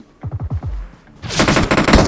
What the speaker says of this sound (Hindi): तभी पीछे वाले बंदे भी हमारे ऊपर फायर लेते हैं